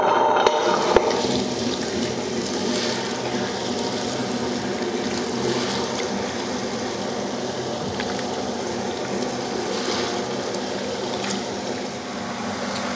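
Water pours steadily into a wet grinder while soaked ration rice is being ground for idli batter, a continuous close rushing wash under the grinder's low rumble.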